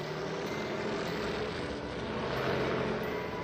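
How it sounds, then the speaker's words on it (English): A steady propeller-driven presidential plane drones continuously in flight, a loud even engine roar with no gaps and no voices. "he ordered the presidential plane to fly him home"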